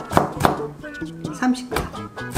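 A knife chops a green bell pepper on a cutting board with a handful of quick, sharp knocks in an uneven rhythm, close by, while a voice talks over it.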